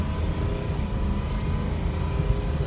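A 2006 Ford F350 diesel 4x4 pickup drives along, its engine and turbo making a steady, close, unbroken low drone with no talking.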